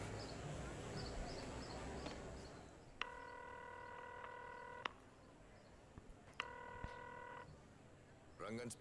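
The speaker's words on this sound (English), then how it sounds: "Let's make a phone call." Payphone in the Hitman 3 video game: two bursts of touch-tone dialing beeps, each lasting about two seconds, with faint clicks and a quiet ambient game background between them.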